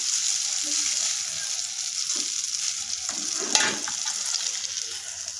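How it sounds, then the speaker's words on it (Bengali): Egg fritters frying in hot oil give a steady, close, loud sizzle with occasional stirring clatter and a brief louder crackle, with no talking. "এই যে ডিমের ভাজা।"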